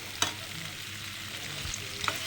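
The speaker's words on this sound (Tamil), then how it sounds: "அந்த காடையில் இருக்கிற அந்த கிரேவியோட மசாலு எல்லாம் போட்டு கலக்க போகுது" Quail pieces stirred through masala gravy for a pepper fry, a close, busy sizzle broken by a few sharp scrapes and clinks of the spoon against the pan.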